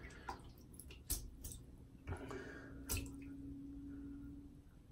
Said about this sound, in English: I'm going to go ahead and wet each brush